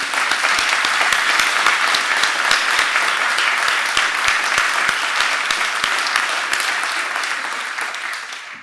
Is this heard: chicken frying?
no